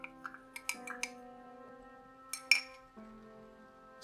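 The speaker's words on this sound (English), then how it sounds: "I've got a glass of water here. Let's put some gravel in there." Aquarium substrate gravel dropped into a glass of water gives a few light, quick clinks and ticks against the glass, faint and close, with a couple of sharper taps near the middle over a quiet ringing tone.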